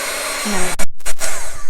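A Wagner heat embossing tool blows hot air over embossing powder for cardmaking, a loud steady fan whoosh close to the microphone with brief dips as the airflow is moved or interrupted.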